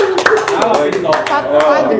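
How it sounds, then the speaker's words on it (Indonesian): Several people clapping their hands in quick, uneven rhythm, close and loud, with voices talking over the claps. "Tepuk tangan dulu."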